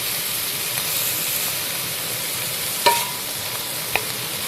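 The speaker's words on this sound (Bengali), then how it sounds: "জাস্ট কড়াতে আমি সেঁকে নিচ্ছি" Shrimp dry-roast in a kadai with no oil, giving a steady hissing sizzle and a couple of sharp clicks from a spoon against the pan, fairly close and with no talk.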